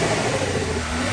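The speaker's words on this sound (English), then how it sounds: "the turbo's full-on surging" An Audi engine with a broken N75 turbo valve and a thrown belt, its turbo surging. It gives a steady, loud, close roar and whir that stays constant throughout, with no voices.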